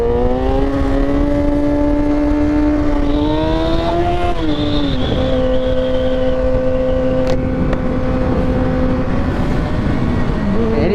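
A 2015 Kawasaki ZX-6R motorcycle engine held at full throttle, a loud steady high-pitched whine with rising harmonics that shift briefly as the revs hold short of redline, close and alone throughout.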